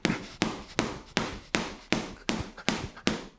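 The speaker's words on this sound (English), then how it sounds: "by throwing multiple hooks to the body on the heavy bag" Repeated hooks to the body landing on a heavy bag, nine evenly spaced thumping impacts in a steady rhythm, each a sharp close-up whack with a short decay.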